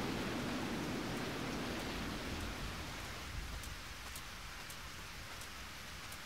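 Rain falls in the Eternal Sonata video game, a soft, even wash of noise that stays quiet and steady, with faint rumbling underneath early on and no voices.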